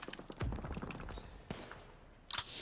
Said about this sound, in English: Let's fire this flare and wrap this mission up, right?